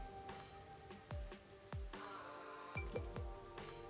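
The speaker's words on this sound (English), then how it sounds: "this rain sound is fucking killing" Steady video game rain patters and drips, with occasional heavier drops landing close by and faint tonal background sounds.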